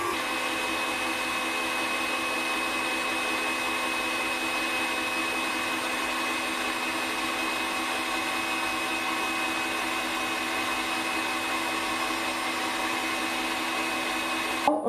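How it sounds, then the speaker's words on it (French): An electric mixer beats mascarpone and cream in a bowl, a steady high whirring drone that holds constant and loud throughout, with no voices. "On augmente la vitesse petit à petit, une fois que le mascarpone et la crème se sont bien mélangés."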